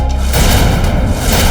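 A gun fires at point-blank range in a dramatized crime scene: one loud, deep booming blast that fills the short clip with heavy low-end rumble.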